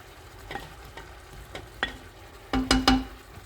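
Garlic and onions frying in a pot for a prune and almond tajine, a quiet background sizzle punctuated by spoon taps and a cluster of louder metallic knocks near the end, no talking.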